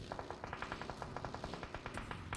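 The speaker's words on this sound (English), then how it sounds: "So this is RAPTR, who is being shot from behind." Gunfire during a PUBG Mobile esports match, a fast even rhythm of repeated automatic shots, fairly faint and distant-sounding, continuing steadily throughout.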